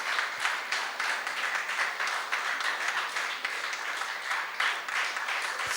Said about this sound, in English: I would request all the people a huge applause for all my student team